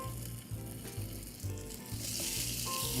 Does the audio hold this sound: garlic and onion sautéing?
yes